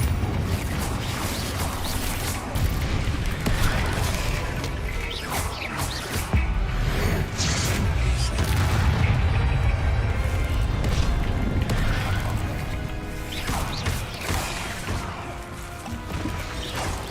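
Repeated fiery Confringo spell blasts in the game Hogwarts Legacy, dense bursts and crashes layered over a loud, continuous battle din with music, no clear gaps.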